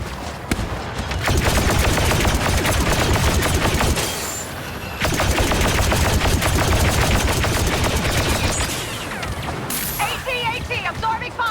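Blaster fire rattles in dense, rapid bursts during a Star Wars Battlefront II battle on Endor, loud and continuous with a brief lull around the fourth second, mixed with explosions and chattering effects under in-game voices.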